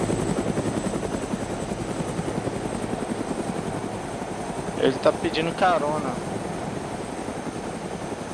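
Several helicopters in the survival video game DayZ keep up a steady rotor drone throughout, with a brief rise near the middle while a person speaks over the noise.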